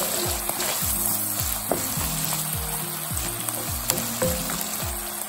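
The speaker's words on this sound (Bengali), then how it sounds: "আমরা এখন একটু মশলাটাকে কষিয়ে নিব" Cumin and spice paste sautéing in a pan for a shrimp and arum-lobe curry, a close continuous sizzle broken by repeated rhythmic scraping strokes of a spoon.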